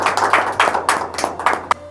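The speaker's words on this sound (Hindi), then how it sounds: "जोरदार तालियों में इस्तकबाल करें।" A small crowd claps in uneven bursts for a couple of seconds at a poetry recital, the applause thinning out and ending with a final sharp clap.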